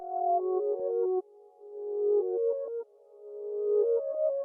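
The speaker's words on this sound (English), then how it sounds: "He's talking about this little reverse pad sound." A soft synth pad plays a slow melody with swelling notes that fade in and cut off abruptly, giving a reversed feel, quiet and alone.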